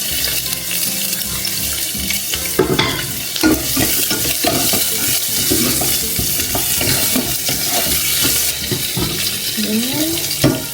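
Garlic and onion frying in a pan as mixed seafood gets going: loud continuous sizzle with scraping and clattering stirring strokes, and a short bit of background voice near the end.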